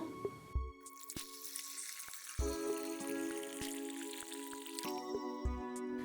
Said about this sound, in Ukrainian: Рулет готов, кладемо його в каструлю, заливаємо холодною водою.